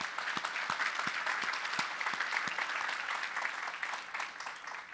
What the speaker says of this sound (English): those four people deserve a huge round of applause for everything they've done